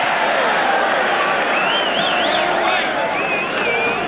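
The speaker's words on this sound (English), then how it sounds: "It's a great roar from the crowd, does Dean Bell, because he's one of the local players here" A crowd roars for a local player at the 1984 New Zealand versus Great Britain rugby league test, a loud, sustained wash of cheering and noise with a commentator talking over it.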